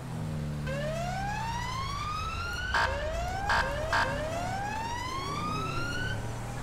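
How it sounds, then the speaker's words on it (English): A UK police car siren from the game GTA 5 on a Dorset patrol wails in steady rising sweeps, loud and close, over a low engine rumble, with a few brief louder blips cutting in partway through. "Dorset have just upgraded their siren"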